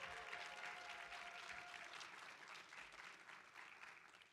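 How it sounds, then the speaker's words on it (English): A graduation crowd at a School of Public Health DrPH commencement and hooding ceremony applauds steadily for the graduates, a soft, dense wash of many hands heard from a distance and holding even for the whole stretch. "Let's give our graduates one more round of applause."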